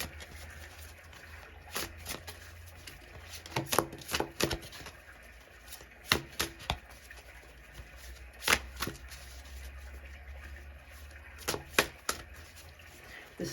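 Sparse sharp riffling bursts of cards being shuffled, several quick clusters with pauses between them, close up over a quiet background.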